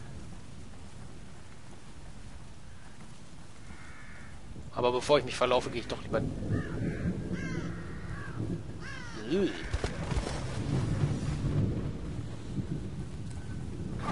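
Rain falls steadily in a dark forest during a thunderstorm in The Evil Within, with low rumbling swells and crow-like calls rising midway, under someone speaking German.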